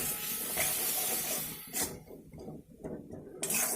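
Masala spice powders frying in a pan hiss and sizzle loudly as a little water is added, the steady crackling spitting then dipping and surging in bursts, with no voices.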